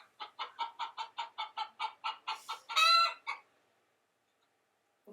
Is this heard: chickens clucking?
yes